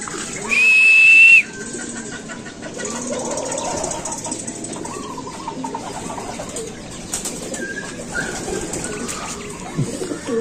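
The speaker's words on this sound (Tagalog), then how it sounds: "Ayun mga kalapatids, doon dumapo." Racing pigeons arrive and settle on the final lap of a race, with a sharp whistle early on, soft cooing and wing sounds nearby, and faint voices in the background throughout.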